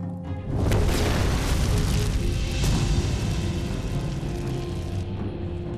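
Explosion in an alchemy room as a drama sound effect, a heavy booming blast that swells quickly and rumbles on as a long, dense roar before slowly thinning out.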